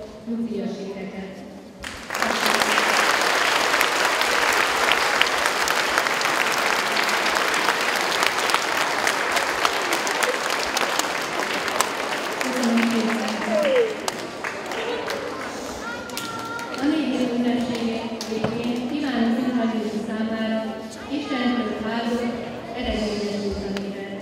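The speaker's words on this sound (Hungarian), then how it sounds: "Megkérlek benneteket, hogy egy tapsal fejezzük ki hálánkat" After a brief spoken lead-in, a school hall audience at a Hungarian Reformed primary school's opening ceremony breaks into long, loud, sustained applause for a retiring staff member, thinning out later as voices and rustling take over.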